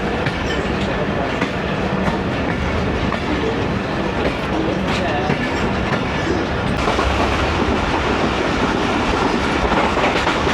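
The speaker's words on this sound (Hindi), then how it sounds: "कालूवाल रेलवे स्टेशन, यहाँ से ट्रेन रन थ्रू कर रही है" The 14DN Awam Express runs through Kaluwal railway station without stopping, a loud, continuous rumble with rhythmic wheel clatter and rattling carriages throughout.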